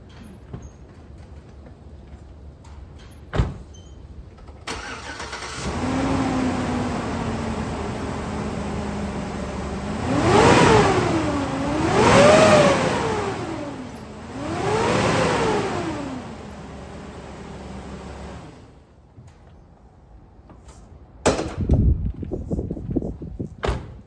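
A car engine with a faulty cheap fan clutch starts and settles into a steady idle, then revs up and down three times in rising and falling swells before it cuts off, with door clunks before and after.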